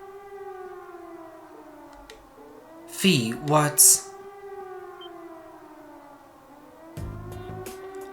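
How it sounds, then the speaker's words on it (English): A siren wails from a fort in the video game Trails of Cold Steel, a steady layered tone with slow rising and falling pitch. Brief voices speak over it midway and near the end. "It sounds like a siren."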